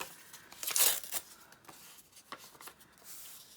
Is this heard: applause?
no